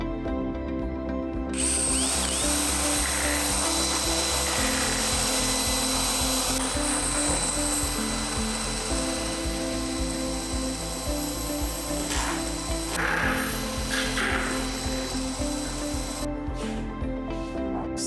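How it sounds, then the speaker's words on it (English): A power drill bores a mortise hole into a swing door for a lock case, giving a loud, continuous high whine with a deeper grinding layer that shifts in pitch as it cuts, and trails off with short bursts near the end. "Drill the mortise hole."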